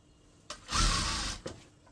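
An electric sewing machine stitching elastic onto a churidar pajama gives a close, steady whirring run of under a second, framed by sharp mechanical clicks just before and after it starts.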